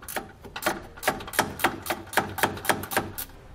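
A hand ratchet with a 13mm socket working heat shield bolts loose under a 2019 Chevrolet pickup, a rapid run of about a dozen sharp metallic clicks in a steady rhythm, close and crisp with no talk.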